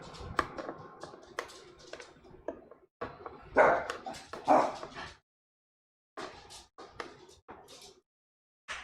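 A dog barks and yips in a home kitchen during a baked-ribs cook, with sharp bursts mixed with clatter and tapping, loud in the middle and then dropping into silence before some faint clicks return.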